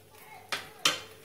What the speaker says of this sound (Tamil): இது நல்லா கொதிக்கட்டும் நம்ம மூடி வச்சிடலாம்